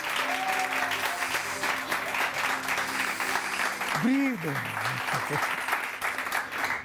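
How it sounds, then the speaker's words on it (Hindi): A studio audience on a Pakistani morning TV show applauds for themselves, sustained dense clapping throughout with a voice briefly sounding over it midway. "आप लोग अपने लिए तालियां बजाएं"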